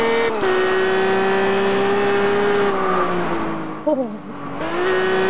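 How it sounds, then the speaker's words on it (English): Cars accelerate side by side in a Test Drive drag race, a loud, steady engine drone rising and dipping through gear changes, with a brief exclamation over it. "we're drag racing"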